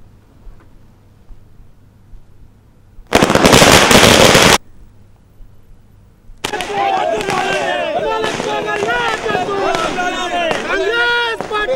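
Fireworks set off at a Telangana Congress party celebration of election success let out one loud crackling burst lasting over a second. Quiet follows, then voices and background noise take over.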